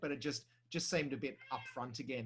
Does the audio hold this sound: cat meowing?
yes